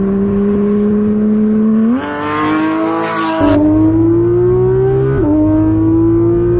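Porsche 911 GT3 exhaust fitted with a titanium muffler, a loud steady engine drone that rises in pitch in stepped revs, with a brief harsher burst midway, close and continuous with no talking.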